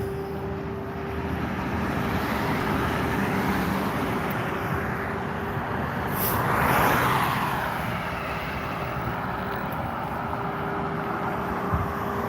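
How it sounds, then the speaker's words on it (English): Busy road traffic running steadily through a live city street stream, a continuous wash of engine and tyre noise with one louder vehicle swelling past near the middle, no talk. "there's been a whole lot of really crazy traffic here"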